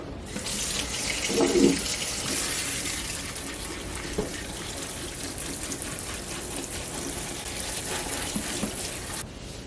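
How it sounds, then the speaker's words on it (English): A kitchen tap runs steadily into a sink as a bowl is drained and refilled with clean water for rinsing, making a continuous close splashing hiss with a slight surge near the start. "I'm just going to drain this water here and then refill it with just some clean water just to rinse it."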